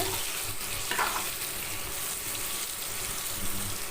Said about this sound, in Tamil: போட்டு கத்திரிக்காயில் போட்டு இது பண்ணி வச்சு வட்டி கிளறி விட்டு நல்லா வதக்கிக்குங்க